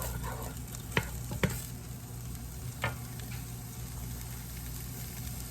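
A few quick scraping clatters of a utensil stirring beef and broccoli in a frying pan over a steady low sizzle, with no talking.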